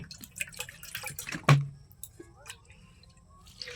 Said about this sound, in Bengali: দেখো এটাকে এইভাবে ছেঁকিয়ে নেবে কিছুর মধ্যে